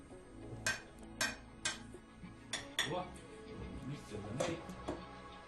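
Utensils clink and scrape against a plate in several sharp taps, with a spoon knocking as hot buckwheat is served, over faint background chatter.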